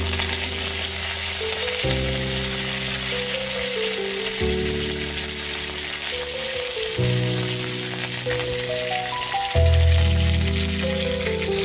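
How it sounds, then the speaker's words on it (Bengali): Black mustard seeds and curry leaves tempering in hot oil in a kadai give a steady, crackling sizzle that runs throughout, with stepped background music playing underneath. "এইবারে কড়াইটা বসিয়ে দিয়ে তাতে ফোড়নে কালো সর্ষে আর এই কারি পাতা"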